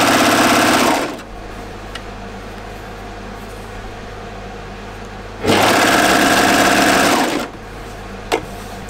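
A serger stitches around a knit jumpsuit neckline with its differential feed set one step above neutral, whirring loudly and close in two steady bursts, the first about a second long and the second about two seconds, with quiet pauses between.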